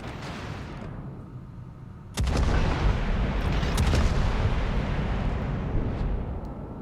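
Incoming naval shellfire from the battleship Mexico in World of Warships: a sudden loud roar of shell impacts and booms breaks in after a quieter stretch, then sustained heavy rumbling blasts with scattered sharp cracks continue to the end.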